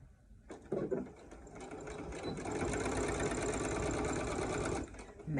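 A sewing machine stitches around the curved seam of a fabric face mask, a steady close whir that speeds up into continuous running for several seconds, then stops briefly near the end.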